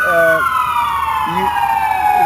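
A siren wails steadily in the background in Philadelphia, a long sliding tone, while a voice speaks briefly over it.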